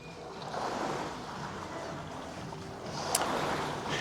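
Water sloshing and swirling inside the tank of a Life Fitness Row HX water rower, a steady rushing wash that stays even throughout, with one faint click near the end and no talking.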